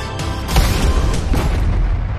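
Rockets launched during an Indian Army barrage on Pakistani positions, a deep booming blast followed by a second roaring surge over a continuous rumbling background, loud and near.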